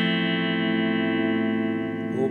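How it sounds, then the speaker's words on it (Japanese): A sustained electric guitar chord with crunch overdrive from a BOSS ME-25 multi-effects unit rings out steadily and loud before a brief change at the end. "オーバードライブディストーションの感じですね。"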